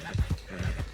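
Horses' hooves clip-clop in a video game as horses are moved along toward Clemens Cove, a quick run of soft, close, low thuds in uneven rhythm over a second.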